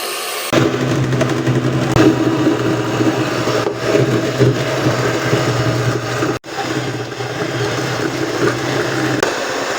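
Electric mixer beating black forest cake batter: a loud, steady motor whir with a constant hum runs almost the whole time, briefly cutting out once and then resuming at the same level.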